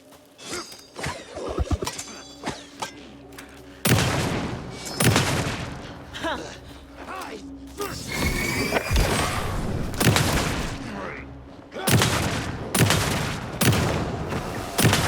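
Gunfire in Alan Wake 2, loud close shots fired in separate bursts with heavy booming impacts and echoing tails, interspersed with quieter game ambience.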